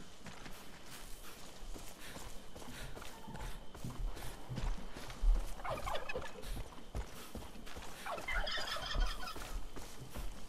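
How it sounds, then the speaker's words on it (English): Several turkeys gobble in Far Cry 5's Garden View Orchard, their bursts of calls rising from a quiet outdoor backdrop at moderate distance, with soft footsteps and rustling beneath. "Some turkeys."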